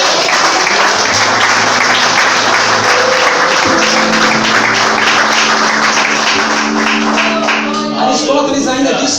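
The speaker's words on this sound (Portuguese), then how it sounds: "um forte aplauso para o Senhor Jesus." Loud, sustained applause from a large crowd at a church sermon, with a few held musical tones underneath that fade near the end.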